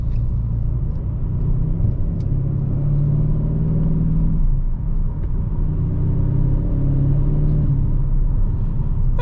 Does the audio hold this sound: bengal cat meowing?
no